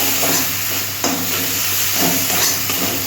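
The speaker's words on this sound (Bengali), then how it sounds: "পর দিচ্ছি আমি টমেটো পিউরিটা মশলা সব মশলাগুলো আমি ভালো করে কষিয়ে নেব" Spices and tomato puree fry in a pan for a Bengali potato and egg-fritter curry, giving a steady close hiss and sizzle with soft stirring scrapes, no voices.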